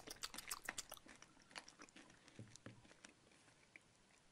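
Alpen Gold chocolate with popcorn is bitten and chewed with crisp crunching, the strongest crunches in the first second and softer chewing after, very quiet and close to the mouth.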